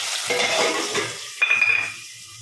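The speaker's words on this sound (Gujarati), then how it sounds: "હવે જાય રાઈ પછી જાય ડુંગળી ને ટમેટું વઘાર" Oil sizzles and crackles as mustard seeds, onion and tomato drop into a hot pan for tempering, with a burst of louder hissing midway, close up and without talk.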